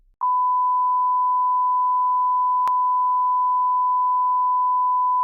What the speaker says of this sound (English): we need a good beep somewhere